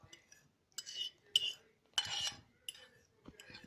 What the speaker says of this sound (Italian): Quindi mescoliamo.